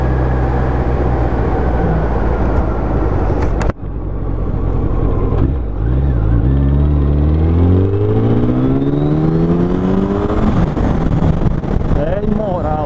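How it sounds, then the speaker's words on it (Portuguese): A Suzuki Hayabusa motorcycle fitted with a Coyote exhaust revs and accelerates on an empty city street, its loud engine note rising in pitch through several climbs, with a brief cutoff early on. "Não adianta eu dar um chama legal na busa"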